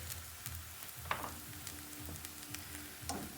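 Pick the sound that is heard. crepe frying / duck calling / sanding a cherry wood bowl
crepe frying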